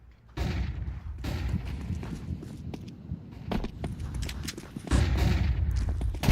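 MP9 submachine guns fire during a professional Counter-Strike match at PGL Masters Bucharest 2025. The shots come as rapid bursts over a busy, loud background, with a strong surge toward the end.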